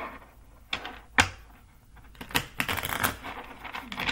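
Morgan Greer tarot cards being handled and pulled from the deck, giving a few sharp close slaps and flicks followed by a stretch of soft, continuous shuffling rustle.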